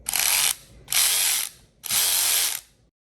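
A Snap-on 14.4V brushless cordless ratchet whirs in three short bursts of about half a second each, close and crisp, with brief pauses between trigger pulls.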